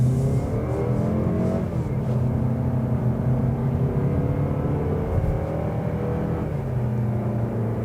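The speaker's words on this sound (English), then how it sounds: "Let's get this vehicle on the road and test some of these driving features out." A 2024 Mazda CX-30 2.5 S Premium AWD accelerates onto a highway in normal mode, its engine drone rising steadily through gear shifts under a constant interior road rumble.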